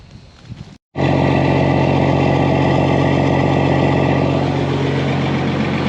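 A John Deere combine engine idles while warming up after starting, a loud, steady low rumble with an even mechanical drone running alone and close throughout.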